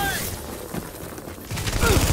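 Rapid gunfire in a firefight from The Division, bursts crackling near and loud under shouted voices, with a denser barrage of shots near the end.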